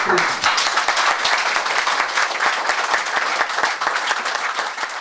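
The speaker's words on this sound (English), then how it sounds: "if we could give him a very warm round of applause, please" A room audience welcomes a speaker with a warm round of applause: close, crisp, steady clapping from many hands, loud from start to finish.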